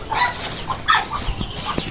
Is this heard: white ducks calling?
yes